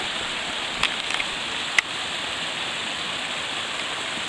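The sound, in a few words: mountain river flowing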